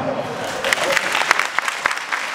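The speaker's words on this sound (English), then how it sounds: "let me hear you clap" An audience at an Onam 2017 community celebration claps, with scattered, uneven handclaps rising and falling over steady crowd noise for a couple of seconds.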